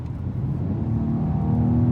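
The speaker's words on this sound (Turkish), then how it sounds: "Şimdi şöyle bir ara hızlanma yapacağım." A 2024 BMW X4 M accelerates hard on a German autobahn, its engine note droning loud and steady as the revs build, heard from inside the cabin with no talking.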